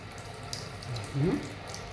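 Hot water runs from a tap into a sink as a soft, steady splashing flow, with a brief louder gush near the end and a faint voice in the background.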